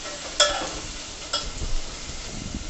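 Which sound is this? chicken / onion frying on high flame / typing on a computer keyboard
onion frying on high flame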